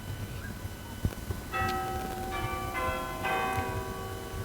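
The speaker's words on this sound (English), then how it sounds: "for whom the bells toll. Perfect timing, I couldn't believe it." Church bells ring out in layered, sustained tones in Hathersage, Derbyshire, several bells striking one after another with a low background rumble and no talking.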